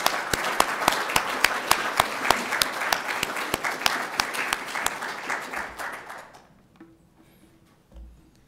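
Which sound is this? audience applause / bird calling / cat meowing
audience applause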